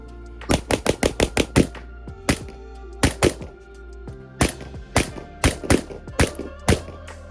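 Rapid bursts of gunshots ring out close by, fired in quick strings with brief pauses between groups, sharp and loud.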